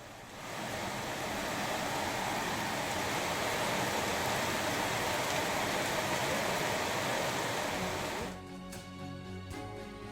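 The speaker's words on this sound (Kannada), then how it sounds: "ಚಿಕ್ಕಮಗಳೂರು ಜಿಲ್ಲೆಯಾದ್ಯಂತ ಧಾರಾಕಾರವಾಗಿ ಮಳೆ ಆಗ್ತಾ ಇರುವುದರಿಂದ" A dense, even wash of heavy monsoon rainfall in Chikkamagaluru, Karnataka, swells in and holds steady, then drops away near the end, leaving quieter background noise.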